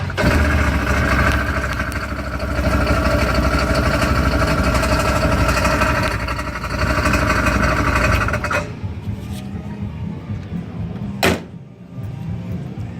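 A 2018 CF Moto Z Force 1000 side-by-side engine runs at a steady, close idle with a broad rumble, then cuts off abruptly partway through, leaving quiet handling noises and a brief sharp click.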